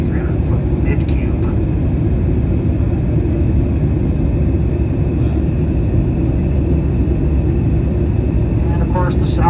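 Steady, loud low rumble of a small aircraft cabin in flight on a sightseeing tour over Denali, with broadband engine and wind roar throughout and faint higher tones on top.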